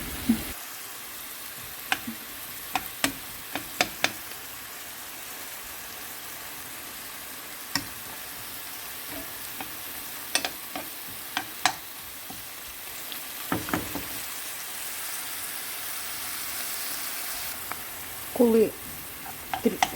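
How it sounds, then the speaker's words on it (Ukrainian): Beetroot and carrots sizzle softly together in one pan with a steady frying hiss, punctuated by scattered pops and the occasional scrape of stirring. "Все це я смажу в одній сковорідці."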